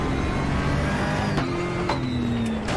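A car engine hums steadily while driving, loud and close throughout, with a small tonal whine shifting partway through and no talk.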